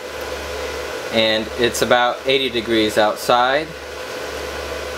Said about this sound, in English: Okay, so we switched the air conditioner on